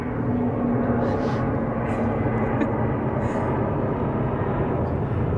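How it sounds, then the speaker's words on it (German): An airplane passes overhead near an urban car venue, a steady low roaring drone that stays loud and even for several seconds, with a voice briefly heard. "ich warte, bis das Flugzeug vorbei ist"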